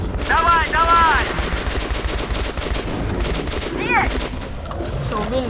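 Sustained gunfire in the video game Metro Last Light, dense rapid bursts running throughout amid chaotic combat noise and creature screeches, with voices shouting over it.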